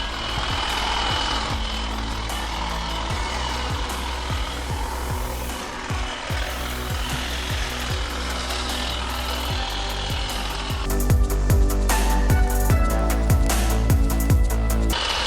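A Revolt brush cutter engine runs loud and steady the whole time, a continuous two-stroke drone with rapid periodic pulses that grows louder and harsher in the final few seconds; no talking.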